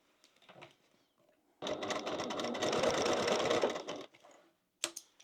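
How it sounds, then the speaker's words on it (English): A sewing machine stitches across the boxed corner of a fabric crossbody bag, running in one fast, steady, close burst for about two seconds, with quiet handling noises before and a sharp tap after. "So we're going to sew across there."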